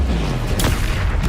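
The Incendio fire spell from Hogwarts Legacy is cast in a short, loud whooshing burst over a dense rumbling low roar.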